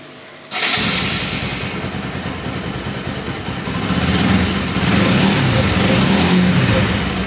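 A Bajaj Pulsar NS200 motorcycle engine abruptly fires up after a moment of quiet, then settles into a steady, loud idle that swells slightly toward the end.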